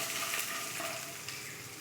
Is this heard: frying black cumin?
yes